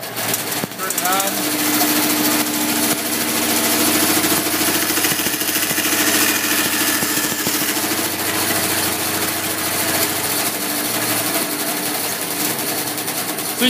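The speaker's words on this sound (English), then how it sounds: "The on-off switch, once again, is in the front of the bandsaw." A bandsaw in a middle-school woodshop cuts through a wooden workpiece, its steady motor whine and blade rasp running loud and continuous, with faint speech mixed in.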